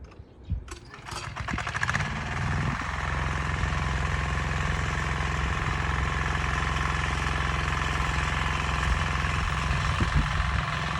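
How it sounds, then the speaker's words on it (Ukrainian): A tractor engine cranks and catches, then settles into a steady, loud idle with a rapid chugging rhythm that continues throughout. "Трактор свій включають."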